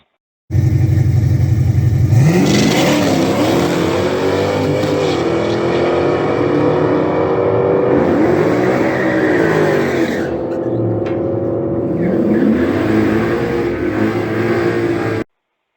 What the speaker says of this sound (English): we made some nitrous hits on the Trans Am, and he fought a little bit of traction issues